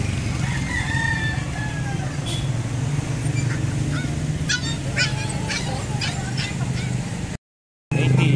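Geese honk repeatedly amid a busy poultry yard, with a rooster crowing and hens clucking over steady low background noise.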